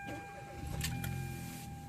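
A 2015 Hyundai Veloster engine starts up close by: a couple of short cranking bursts, then a low, steady idle rumble settling in.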